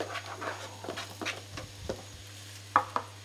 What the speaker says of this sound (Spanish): Ponemos una sartén amplia al fuego con dos cucharadas de aceite y cuando esté muy caliente ponemos el champiñón cortado a láminas